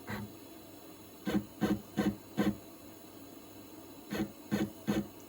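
A FOXAlien 4040-XE CNC carving machine jogging in small steps, a series of short whirring motor bursts, four in quick succession and then four more after a pause, over a faint steady hum.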